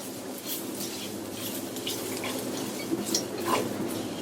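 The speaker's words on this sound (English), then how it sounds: "I'm going to put the rice in, continuing to stir" Rice being stirred in a pot with softened vegetables for Spanish rice, producing faint soft scraping and light clinks of a spoon against the pot over a quiet background hiss.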